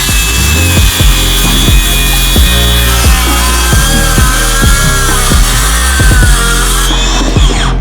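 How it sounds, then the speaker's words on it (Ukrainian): A Dnipro-M DSC 200 BC Ultra cordless circular saw whines steadily at full speed while repeatedly biting into wood, loud and close, with a rhythmic grinding pulse until it winds down. "Виставили глибину на нашій циркулярній пилі DSC 200 BC Ultra і починаємо робити різ"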